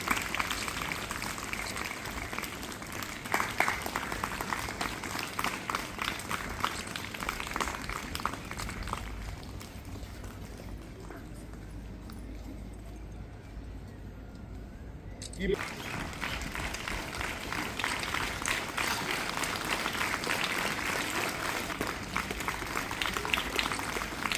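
A school prize ceremony audience claps for top-scoring students in long waves of soft, dense applause. The clapping thins and briefly dips midway before building again, with voices audible over it.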